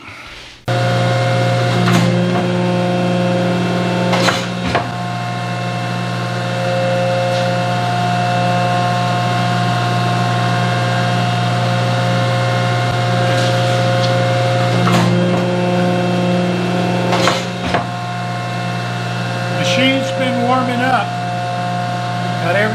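A metal planer machine hums steadily while warming up in a workshop during shaping of grinding sled rails, a constant mechanical drone with occasional faint clicks and knocks throughout.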